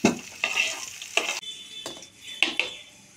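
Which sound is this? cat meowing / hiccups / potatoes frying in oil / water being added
potatoes frying in oil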